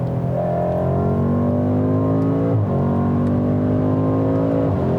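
A 2018 BMW M5 sports sedan engine revs up steadily with rising harmonic tones, a brief gear-change dip midway, then keeps climbing; loud, continuous and close, with no talking.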